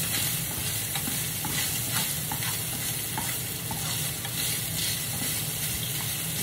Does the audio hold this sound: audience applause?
no